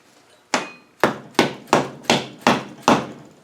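A hammer strikes a metal part during a Rover 3500 steering box rebuild, seven sharp, ringing blows at a steady pace after a quiet start, close and clear with no talking.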